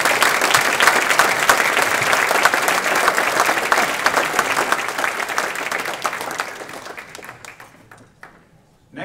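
Sustained applause from a crowd at a sports hall of fame induction ceremony, loud and dense clapping that gradually thins and fades out near the end.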